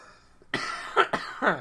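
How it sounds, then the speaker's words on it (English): Three harsh coughs in quick succession, close and loud, with brief pauses between them. "My apologies in advance for the coughing and sniffling throughout the entirety of today's show"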